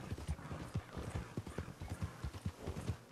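Galloping horse in Red Dead Redemption II, hooves pounding in a fast, steady clip-clop rhythm, loud and close throughout with no talking.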